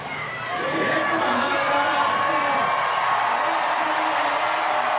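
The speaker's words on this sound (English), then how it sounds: "Big cheer from the crowd." Spectators roar and cheer at a strongman competition at the 2021 Rogue Invitational, the crowd noise rising quickly and holding loud and steady, with commentary beneath it.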